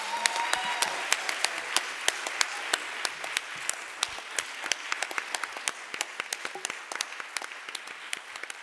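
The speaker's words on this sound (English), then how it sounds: "A round of applause for our panel." Audience applause for a panel at a talk on policing and motherhood, a steady, dense clapping from a sizeable crowd that continues evenly for the whole stretch without voices.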